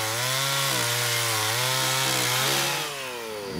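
A chainsaw used for wood carving runs steadily and loud, its engine pitch dipping and rising as it bites into wood, then easing off near the end.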